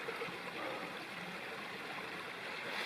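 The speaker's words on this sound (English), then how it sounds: "And here's the creek. The creek comes down that little valley there" Creek running down a small valley along a wooded hiking trail, a steady broadband wash of flowing water that stays even and unbroken throughout, moderately distant with no voices.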